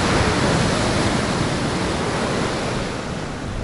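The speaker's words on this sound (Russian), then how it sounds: "Посмотрите, такие волны." Dark sea waves break and wash onto the shore at Adler in Sochi, a loud, steady roar of surf with wind noise that eases slightly toward the end.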